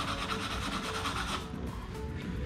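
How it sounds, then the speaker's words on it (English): Fine sandpaper rubbing a painted wooden roller coaster cutout, a steady close scratchy back-and-forth rasp for about a second and a half that then thins to lighter, fainter strokes, with no voices. "Now we're gonna use a finer sandpaper to just kind of brush off a little bit of the excess and smooth it out here."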